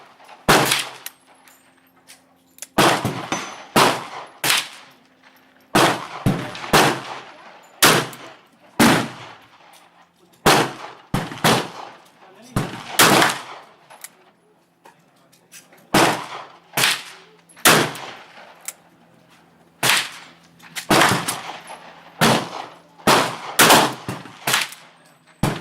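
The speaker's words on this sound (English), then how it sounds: "We're going to go ahead and put 6 shots in there." Rifle shots fired at a target outdoors, each sharp crack followed by a ringing metallic clang, about a dozen loud reports spaced unevenly with quiet gaps between.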